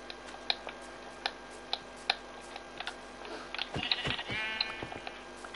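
Sheep bleating in Minecraft, several short wavering bleats arriving close together after a run of sharp, evenly spaced game clicks, fairly faint overall with no talk.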